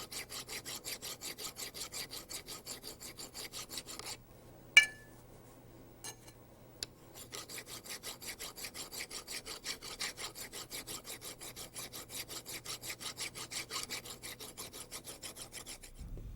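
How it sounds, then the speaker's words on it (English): Rhythmic rasping strokes of a metal file on the upper bearing housing of a Rotorway EXEC 162F helicopter, worked at an angle where it meets the airframe; steady close scraping, pausing briefly midway with a couple of clinks before resuming. "file the upper bearing housing where it contacts the airframe"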